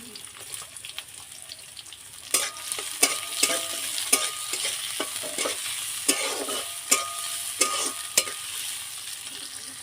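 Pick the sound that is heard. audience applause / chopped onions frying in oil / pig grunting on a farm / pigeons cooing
chopped onions frying in oil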